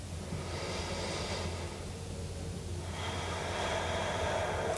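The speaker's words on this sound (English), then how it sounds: "Nice long inhales and exhales." Slow, deep yoga breaths drawn in and let out at a steady pace, each long inhale and exhale audible and close, with no talking over them.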